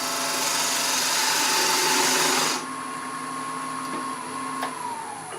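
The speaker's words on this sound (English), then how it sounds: "Now let's just do a peeling cut right next to it." A handmade parting tool makes a peeling cut into wood, a steady close whirring and shaving hiss that drops to a quieter hum partway through as the cut eases.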